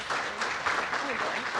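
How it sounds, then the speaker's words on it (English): Audience applause at a college state-of-the-college address, a short burst of dense clapping heard with voices mixed in. "Let's give her a round of applause."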